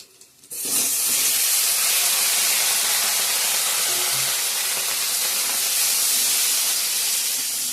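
Potatoes and raw green banana drop into hot oil tempered with whole cumin, bay leaf, chili and ginger, bursting into a loud, continuous sizzle and hiss that holds steady after a sudden onset.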